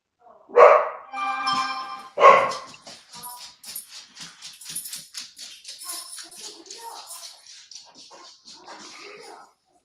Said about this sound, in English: Dogs are about to start going. You can hear them.